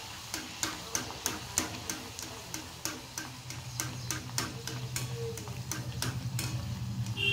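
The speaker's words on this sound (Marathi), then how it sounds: "पुरी तळायला ठेवून देऊ।" Puris frying in well-heated oil for a fasting-day thali: a steady bubbling sizzle with a regular series of sharp ticking clicks, swelling into a denser crackle toward the end.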